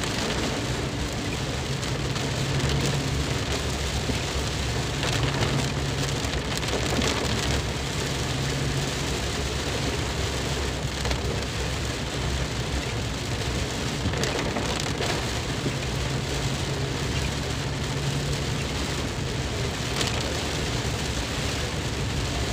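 Heavy rain in Delhi, a steady loud hiss of downpour drumming on surfaces with low rumbles underneath, unbroken throughout and with no one talking.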